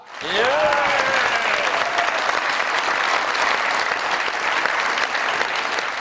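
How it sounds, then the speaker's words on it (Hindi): Studio audience of a comedy show breaking into loud, sustained applause to welcome a film actor, dense and continuous after a brief rising tone at the start. "बहुत सारी तालियों में वेलकम कीजिएगा"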